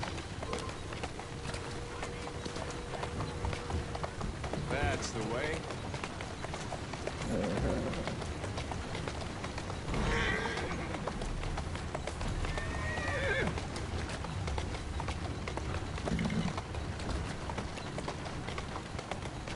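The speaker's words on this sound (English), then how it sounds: "Who's a good horse? You are." In the Assassin's Creed Syndicate video game, horse hooves clip-clop steadily on the street, with a couple of neighs and whinnies breaking through and a person speaking briefly over it.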